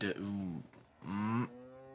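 Two drawn-out cow moos from the video game Martha Is Dead, loud and close, the second rising and holding before breaking off, with no talk over them.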